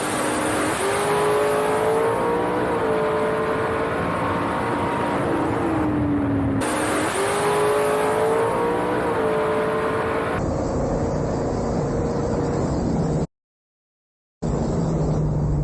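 Drag race cars launch down a racetrack with a continuous loud engine roar, rising in pitch as they accelerate through gear changes. It cuts abruptly partway through, with a short silent gap near the end.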